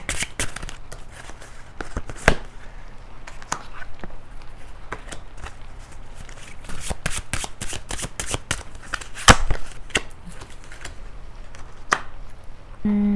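Tarot cards are shuffled and drawn by hand, giving steady soft riffling and papery flicks with sharper snaps at intervals, close and quiet, with no talking.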